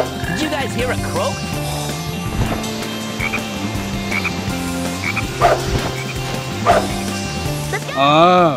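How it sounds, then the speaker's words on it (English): Repeated frog croaks in the game Sonic Heroes, arriving in a steady rhythm over background music, with a few louder effects and a brief dog-like yip near the end. "Did you guys hear a croak?"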